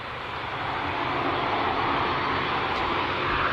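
Jet2 Boeing 737 without winglets departing runway 05L at Manchester Airport, a steady, loud broadband jet roar that holds constant throughout with no voices.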